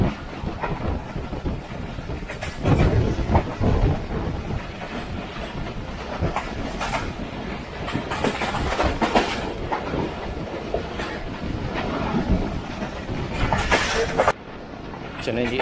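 A passenger train runs on rails past a railway station between Rawalpindi and Gujjar Khan, heard from inside an economy-class coach as a loud continuous rumble with clickety-clack and wind noise, while someone talks over it.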